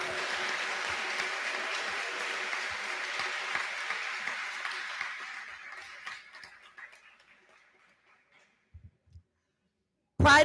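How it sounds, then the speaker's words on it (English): Applause from a graduation audience, broad steady clapping for several seconds that gradually thins to a few stray claps and then silence, with a brief loud burst at the very end. "Can we give them another round of applause?"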